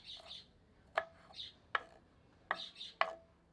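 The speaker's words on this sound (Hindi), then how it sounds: "चार से 5 हरी मिर्चों को छोटे टुकड़ों में काट लेते हैं।" Sharp knife chops through green chillies on a board, five distinct strikes at an uneven pace, close and crisp, with faint bird chirps in the background.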